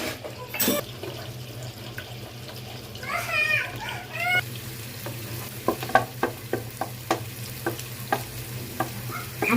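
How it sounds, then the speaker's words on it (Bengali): Two eggs fry in a hot pan for fried rice: a steady close sizzle with sharp spatula scrapes and clinks against the pan, and a brief bubbling, watery splutter partway through. "ফ্রাইড রাইসের জন্য এখন আমি 2টো ডিম ভেজে নিব।"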